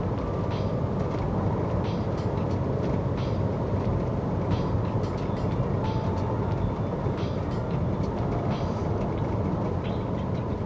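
A 2010 Opel Astra accelerates up to 130 km/h, heard from inside as a steady, loud broadband roar of engine, tyres and wind that holds constant throughout with no talking.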